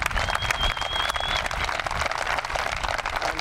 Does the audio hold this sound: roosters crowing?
no